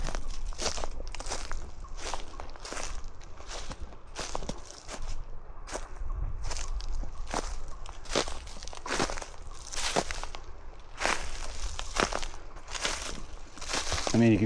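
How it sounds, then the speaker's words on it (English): Footsteps crunch steadily through dry, dead balsam undergrowth on a hillside in a Wisconsin forest, a close, continuous rhythm of crackling and crumpling steps. "you can hear me crunching"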